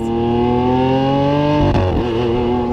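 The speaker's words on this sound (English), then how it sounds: "You're really driving this car and it feels really good. And it's really, really fast." Lamborghini Aventador S sports car with 729 horsepower driving fast, its engine note a loud, steady drone that holds pitch and then drops and shifts near the end, heard alone without talk.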